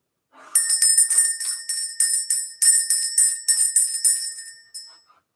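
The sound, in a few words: bell rung to clear energy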